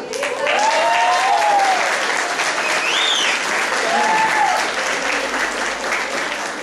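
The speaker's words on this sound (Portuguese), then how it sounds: "Palmas, senhor Eduardo" Loud, dense applause from a church congregation, steady throughout with voices and a few shouts or whistles rising above the clapping.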